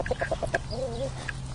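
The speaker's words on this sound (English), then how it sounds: "I need to ask the rooster, what's going on?" A rooster clucks close by in a quick run of short staccato notes, followed by a softer drawn-out warble, all over steady low background hum.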